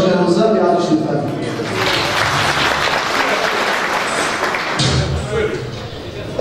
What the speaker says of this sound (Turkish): Şu an aramızda Sayın Başkanımıza bir alkış lütfen.